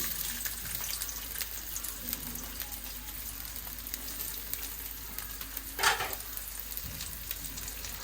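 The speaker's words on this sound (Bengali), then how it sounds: "মাছ ভুনা করার জন্য এখানে কড়াইতে তেল দিয়ে দেবো" Cooking oil hisses faintly in a wok as it heats for a fish bhuna, a soft steady sizzle with a single brief clatter partway through.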